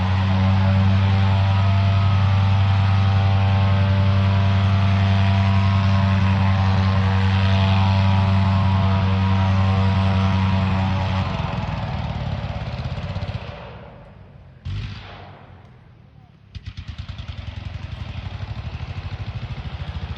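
A Fokker D8 monoplane's Gnome-style rotary engine at an aerodrome runs up toward about 1,300 RPM, a loud steady propeller drone with strong low harmonics that holds for about eleven seconds, then cuts and sputters through brief bursts before restarting.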